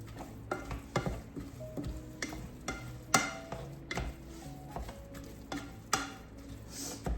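A pan of sauce cooking in olive oil and water sizzles quietly under repeated rhythmic spoon scrapes and taps against the pan.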